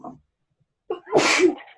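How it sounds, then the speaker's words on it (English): A single loud sneeze, preceded by a short sharp intake of breath, close to the listener in an otherwise quiet room. "hold on, I'm about to sneeze."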